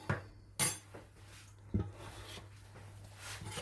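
A spoon clinks and taps against a bowl a few times while mango and other salsa ingredients are put in, with quiet scraping between the faint, sparse knocks.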